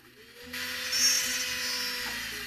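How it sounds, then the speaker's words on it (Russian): A drill whirs steadily as it bites into dense, resinous wood, a high grinding whine that starts abruptly and holds for about two seconds. "Рассверливаю тремя сверлами."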